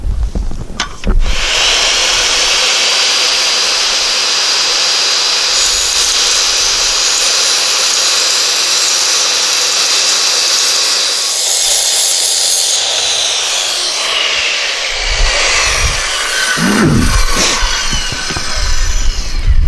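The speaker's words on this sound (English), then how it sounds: "I'm going to try cutting this cross cut here, circular saw, and see how that turns out." A circular saw makes a long, loud, steady cross cut through a plastic roof panel. The whine holds for about fifteen seconds, then runs down and stops.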